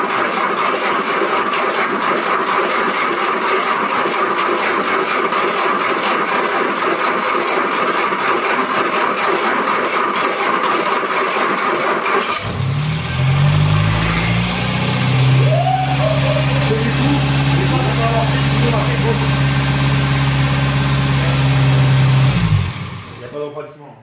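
A Renault Fuego GTS pulled from long barn storage cranks and fires up halfway through, then settles into a steady, loud idle with rising and falling revs before cutting off near the end, with people talking over the earlier cranking.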